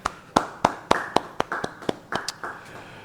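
A single person claps at a church Bible study sermon, about a dozen sharp hand claps in a quick, slightly uneven rhythm, close and clear without talk.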